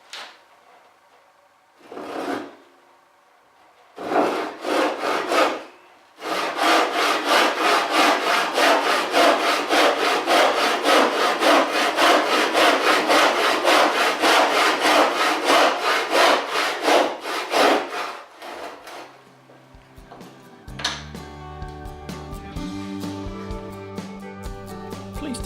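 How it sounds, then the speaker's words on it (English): A crosscut panel saw cuts a shoulder line in wood held on a bench hook, with short starting strokes followed by a long, steady run of loud rhythmic rasping back-and-forth strokes before stopping. "using the same stance but with the crosscut panel saw, we can cut the shoulder line"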